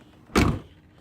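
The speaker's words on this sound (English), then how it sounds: "and then when you close the door," The door of a 1987 Oldsmobile Delta 88 coupe shuts with a single loud, close thud that decays quickly into a quiet interior.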